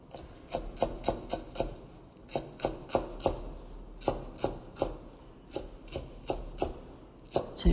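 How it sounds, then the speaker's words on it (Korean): Knife finely slicing chives into half-centimetre pieces on a cutting board. About twenty quiet, close, crisp chops fall in a quick, steady rhythm with brief gaps. "부추를 송송 썰어서"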